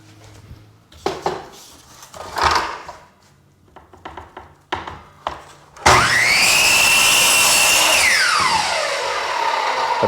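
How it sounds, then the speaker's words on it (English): Laminate flooring planks are handled with scattered clacks and knocks before a power saw starts up and cuts through a plank, a loud steady whine that winds down after the cut. "when you cut this laminate, it puts off very fine dust"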